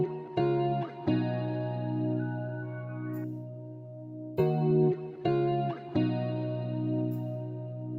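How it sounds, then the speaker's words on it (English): Sustained electric guitar chords ring out with reverb and delay, their tails echoing and swirling between strums. The guitar plays alone at a moderate volume. "what if we put more reverb on this guitar?"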